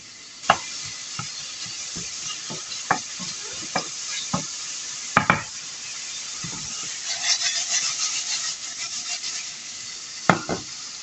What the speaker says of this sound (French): on fait cuire tranquillement les lardons